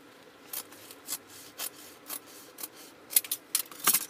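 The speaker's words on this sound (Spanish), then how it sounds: "le cortamos y sellamos" Scissors snipping through ribbon while a large two-tone dusty-pink bow is made, a series of soft, quiet crisp cuts at a steady rhythm, growing slightly louder and busier toward the end.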